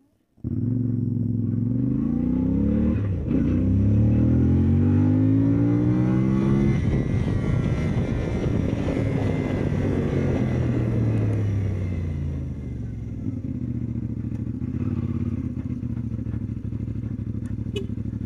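A CFMOTO Ibex 450 motorcycle engine close by, revving and rising in pitch as it pulls away, then settling into a steady rumble.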